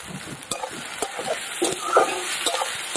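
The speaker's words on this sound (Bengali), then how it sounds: "পেঁয়াজটা ভালো করে এবার ভেজে নেবো লাল করে" Chopped onions with salt, bay leaf and garam masala frying in hot oil, a steady close sizzle broken by a few short stirring scrapes, no voices.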